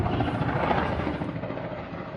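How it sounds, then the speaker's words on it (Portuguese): ATR 72 turboprop airliner falling toward the ground near Vinhedo, its engines a loud, steady, rumbling roar that fills the short stretch and eases off slightly toward the end, with no talking. "Ó, o avião caindo! Caiu!"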